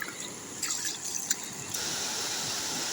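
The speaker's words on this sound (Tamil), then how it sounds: "வயலிருந்து வர தண்ணியாக தான் குளத்துக்கே போகுது" Rainwater running off a flooded paddy field into a brimming village pond in Polonnaruwa, Sri Lanka, after days of heavy rain, makes a steady close hiss of flowing water that swells a little louder partway through, with no voices.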